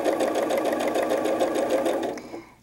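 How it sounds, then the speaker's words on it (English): A sewing machine stitches fabric pieces for a quilted bunny doll, running fast and continuous at close range before stopping abruptly near the end. "Just give it a little lift up and then sew to that pivot point."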